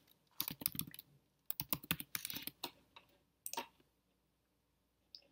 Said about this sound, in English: you have to type in your email that you used with us, as well as your password